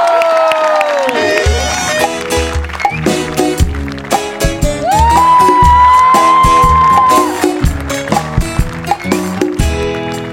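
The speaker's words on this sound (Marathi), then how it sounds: "दोघांसाठी जोरदार टाळ्या" A studio audience at a Marathi comedy show claps and cheers loudly, the crowd noise blending with punchy, beat-driven stage music and rhythmic hits throughout.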